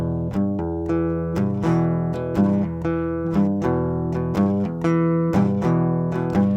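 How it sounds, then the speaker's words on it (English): A plucked guitar intro riff repeats in a steady rhythm, clear notes ringing out one after another, played alone without any voices. "So the song actually starts with this intro riff"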